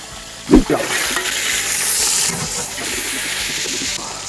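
Brinjal frying in oil sizzles and hisses steadily, opening with a sharp clatter of a spoon against the pan and continuing as a moderately loud, even frying hiss.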